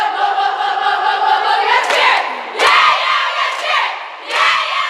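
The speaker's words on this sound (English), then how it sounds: "Every race, there's always people at the end of the pool cheering the swimmers on" A poolside crowd at a girls' swim race cheering and shouting the swimmers on, loud and continuous, with several sharp surges of yelling rising over the sustained roar.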